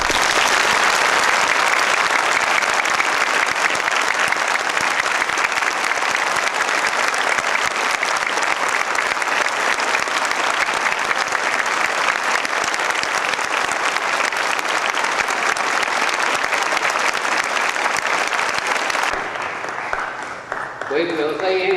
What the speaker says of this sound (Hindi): आप अपनी पूर्ण सहमति प्रकट करते हुए तालियों के साथ उस व्यक्ति का स्वागत करिए।